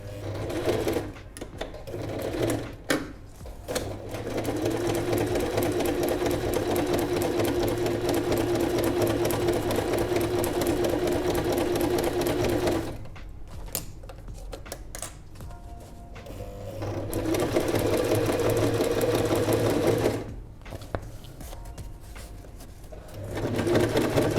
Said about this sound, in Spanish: cosemos a 1 centímetro y pisamos